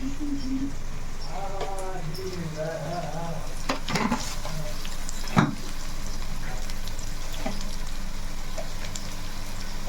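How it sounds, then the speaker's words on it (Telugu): Onions fry in a pan with salt for a simple chicken curry, a steady faint sizzle running beneath a person talking, with a brief utensil knock partway through. "మనకి ఉల్లిపాయలు అనేది కొంచెం కలర్ వచ్చేటట్టుగా వేసుకోవాలి"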